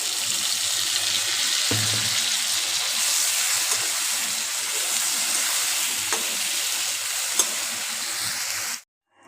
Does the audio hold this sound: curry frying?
yes